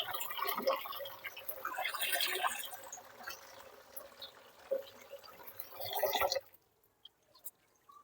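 Water poured into a pot of freshly pressure-cooked plain dal (varan), a steady splashing stream running for about six seconds before stopping abruptly, leaving near silence.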